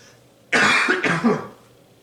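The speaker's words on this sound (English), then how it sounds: "Pardon my coughing." Two quick, harsh coughs in succession, close and loud, then quiet; no talking.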